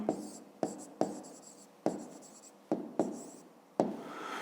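Pen writing numbers on paper while working a fifth-grade math exercise, a close series of scratchy strokes with sharp starts and tapering scrapes, about seven in a steady uneven rhythm.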